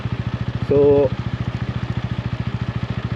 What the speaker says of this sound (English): So now if I'm going to third, as you guys can see, the bike bubbles